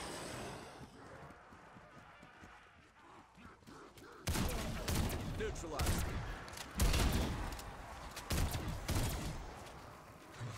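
Bursts of gunfire in a Call of Duty Zombies match, starting after a quieter opening and then coming in heavy repeated volleys with loud impacts, with speech faintly mixed in.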